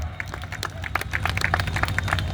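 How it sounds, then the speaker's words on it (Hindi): An audience at a Hindi poetry gathering in Muzaffarpur claps steadily in sustained applause, a dense patter of hands over a low background hum. "आमंत्रण है तालियों के महोत्सव के साथ स्वागत"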